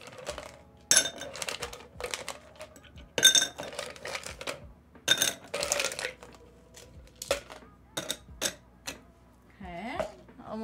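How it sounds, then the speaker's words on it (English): Ice cubes dropped into a glass: irregular clinks and rattles of cubes striking glass and each other, close and fairly loud, with a person talking in between. "we're gonna add a bunch of ice."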